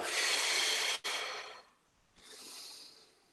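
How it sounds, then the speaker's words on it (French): A long, deep breath out through the mouth during a breathing exercise, loud and airy at first, briefly broken, then trailing off before a softer second exhale follows. "Et j'expire."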